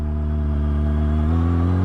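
A motorcycle engine held high in the revs just before the clutch is dropped gives a loud, steady droning hum that climbs slightly in pitch partway through, with no voices.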